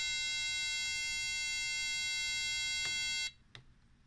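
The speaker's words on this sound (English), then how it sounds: "Now the alarm sounds." A steady, high electronic buzzing tone rings continuously, then cuts off abruptly, followed by a faint click and quiet room noise.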